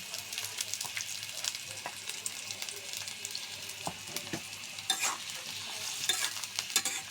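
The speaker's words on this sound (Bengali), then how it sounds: "পেঁয়াজটা আমি নরম করে ভেজে নেব" Chopped onions frying in oil in a wok (kadai), a steady close sizzle with occasional scraping and stirring clatter from a spatula throughout.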